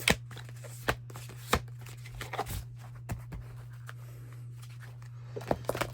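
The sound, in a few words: shuffling tarot cards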